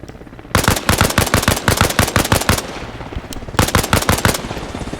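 Rapid bursts of automatic gunfire shoot through a window in a video game, two long volleys of close, loud rattling shots separated by a brief pause.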